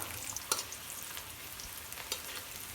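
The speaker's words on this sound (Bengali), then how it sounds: "তেলের উপরে দিয়ে দেবো পেঁয়াজ" Onions hit hot oil in a kadai, giving a soft, quiet sizzle with a couple of sharp crackling pops, close but low in level.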